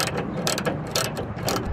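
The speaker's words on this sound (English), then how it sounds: "Go ahead and grab your 12 and start tightening." A hand ratchet clicks rapidly while tightening a 12 mm bolt on a Mazda Miata radiator install, several quick bursts of close, crisp pawl clicks in a steady rhythm, with no talking.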